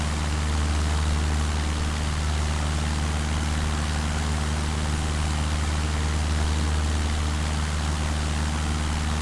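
Light propeller aircraft in flight shortly after departing Cardiff Airport in South Wales, a steady loud engine drone with strong low harmonics and broadband wind roar, continuous and unchanging throughout with no talking.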